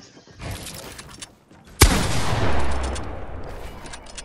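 Gunshots during a 1v1 Fortnite box fight in the video game: a loud sharp crack stands out among quicker, fainter shots, with a rumbling tail afterward.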